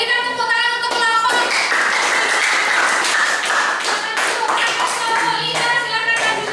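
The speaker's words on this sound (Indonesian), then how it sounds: "kita berikan tepuk tangan untuk kelompok" Classroom students clap together for a group after a science lesson on separating mixtures, a rapid patter of hands with a few sharper taps and tonal voices or ringing mixed in throughout.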